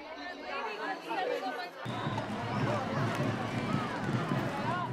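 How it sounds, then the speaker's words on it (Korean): A large sports-event crowd roars with mixed cheering and wailing, a dense swell of many voices that jumps sharply louder partway through and stays loud and close. "함성과 비탄이 엉겨붙은 현장"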